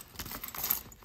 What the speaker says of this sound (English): I'm gonna throw the keys in there